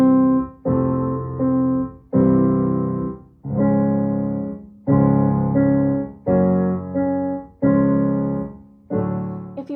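Piano playing simple tonic, subdominant, tonic chord progressions for a choir warm-up, eight sustained block chords struck one after another at a steady pace, clear and close.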